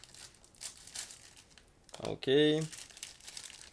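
A sealed plastic bag from a 1/72 scale model kit is cut and pulled open, giving a close, brief burst of crinkling and tearing, with a short spoken word just before.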